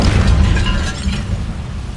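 A broad roaring whoosh of an Incendio fire spell cast in Hogwarts Legacy, sustained and loud for about two seconds with a rumbling low end and crackling texture.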